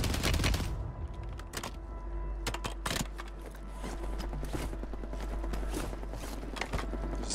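Rapid bursts of gunfire in the Warzone video game, dense overlapping volleys and single shots crackling loudly throughout, with a near continuous battle din.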